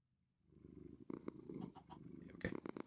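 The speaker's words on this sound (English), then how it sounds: "It's just a slight purr." A cat purrs softly and steadily at close range, the low rumble building after a quiet start, with a few brief rustles or movements over it and no talking.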